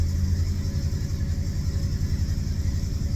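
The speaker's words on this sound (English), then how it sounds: "This car sounds pretty good." A 1971 Ford Torino's 351 Cleveland V8 idles steadily with a deep, loud, throbbing low rumble, running continuously without any talk.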